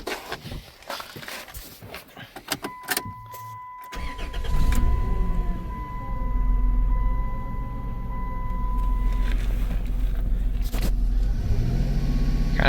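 A 1998 Dodge Grand Caravan SE engine cranks and catches, then settles into a rough, uneven idle suggesting a misfire. Footsteps and handling noises come first, and the running engine stays close and steady.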